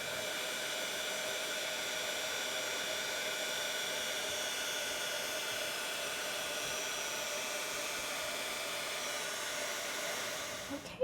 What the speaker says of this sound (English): So just place the rest right back in my container and we'll heat it up.